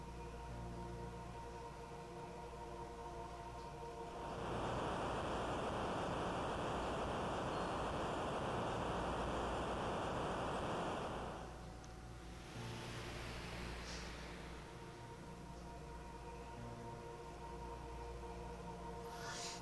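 Rushing water from the Final Fantasy V game, a steady broadband wash that swells in for several seconds over soft background music, then fades back to the quieter tune.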